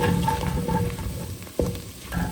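Mushrooms cooking down in a pot give a soft, continuous sizzle, with a stirring scrape partway through. The sound is close and moderate in level, and no one is talking.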